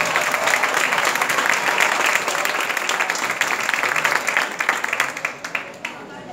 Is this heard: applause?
yes